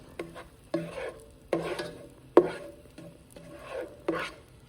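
Garlic cooking in a pan for mac and cheese, with a soft steady sizzle broken by several sharp stirring scrapes at roughly even intervals, close by with no talking.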